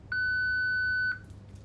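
A single steady electronic beep from a MyEye 3 device, clear and sustained for about a second, then quiet room tone.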